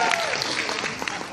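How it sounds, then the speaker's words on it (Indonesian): Audience at a stand-up comedy semi-final claps in a short, dense burst, with a voice faintly mixed in. "Oke, tepuk tangan dulu untuk Mas Arizona."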